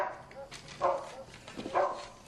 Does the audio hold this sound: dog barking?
yes